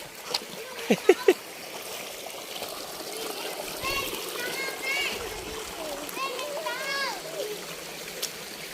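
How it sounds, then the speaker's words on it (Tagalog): Small waterfall and splashing water at a tropical bathing spot, a few sharp splashes early on, then a steady rushing flow with people talking and calling over it. "Ito po rito may talong maliit, kung tawagin si talon."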